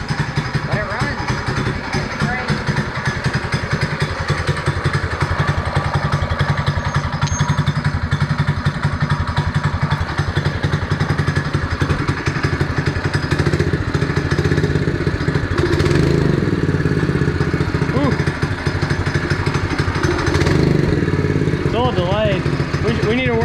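A Chinese ATV fitted with a swapped-in Predator 212 engine runs steadily and loud up close, its small single-cylinder putter continuous throughout with clattery mechanical thumps, while people talk over it.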